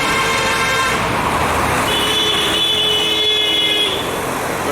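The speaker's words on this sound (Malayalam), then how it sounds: "വെളുപ്പിന് 2 മണിക്കാണ് ഈ ഹോണടിയെന്ന് ആലോചിക്കണം കേട്ടോ" Vehicle horns blare on a road at 2 AM, loud and close, with long sustained honks overlapping one another over a rumble of passing traffic.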